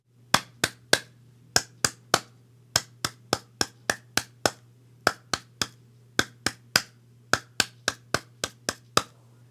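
Crisp handclaps from the Squid Game theme music beat out a syncopated rhythmic pattern, sharp and close over a low steady hum.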